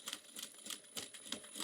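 Sewing machine back-stitching across a zipper while making a boxy bag, a quiet rapid mechanical clatter in short repeated bursts with no talking.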